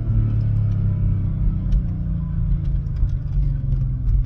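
Mercedes CLK C208 320 engine rumbling steadily in first gear with worn-out engine mounts, a loud, constant low drone with heavy vibration filling the cabin, close and uninterrupted, no one speaking.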